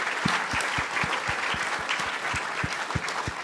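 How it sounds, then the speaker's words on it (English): An audience applauds the candidates at a city leadership debate, a steady wash of clapping with a few louder individual claps standing out near the front. "I think give a big round of applause for them,"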